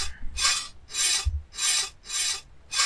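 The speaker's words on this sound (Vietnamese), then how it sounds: "Tủ có mở khóa không? Ồ, không à, chúng ta phải cưa." Rhythmic sawing at a locked cabinet in the Vietnamese horror game Stay Still, five loud rasping strokes in steady back-and-forth succession, close and alone.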